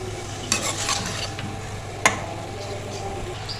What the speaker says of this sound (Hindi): इसको भूनते हुए मुझे 5 मिनट हो गए हैं।